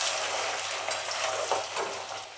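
Potato slices for Bengali garlic aloo bhaja fry in hot oil, adding small batches at a time, giving a steady, dense sizzle with brief crackling bursts and soft stirring scrapes throughout, with no voices.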